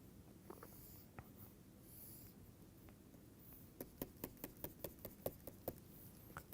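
Pen strokes sketching a wafer diagram for a microchip fabrication lesson, a quiet scratch early on and then a quick run of short, crisp taps and scrapes from the nib, close and faint.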